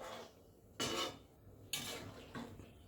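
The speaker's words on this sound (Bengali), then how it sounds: "মাংসটা ভালো করে সেদ্ধ হওয়ার জন্য নেড়ে চেড়ে আবার ঢাকা দিয়ে দেবো" Goat meat stirred in a cooking pot, heard as three separate bursts of scraping and clattering utensil-on-metal noise, each about half a second long, with a quiet pause between each.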